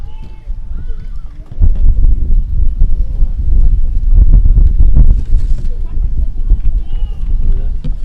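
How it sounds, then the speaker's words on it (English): Strong gusting wind at an outdoor cricket ground during a T20 match, buffeting the microphone as a loud, steady low roar that swells after the opening seconds and stays heavy throughout. "The wind is quite strong."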